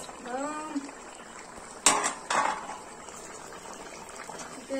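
Chicken gravy bubbles in a pot as the lid is lifted, with two sharp metallic clanks of the lid against the pot over a soft simmer and a brief tonal squeak at the start.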